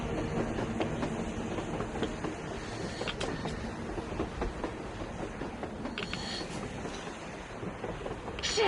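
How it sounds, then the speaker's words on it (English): In the Metro Exodus game, a passing train gives a sustained rattling rumble of railcars with clattering metallic clicks, steady throughout and swelling slightly near the end, heard alone without talk. "A train! A damn train on the surface!"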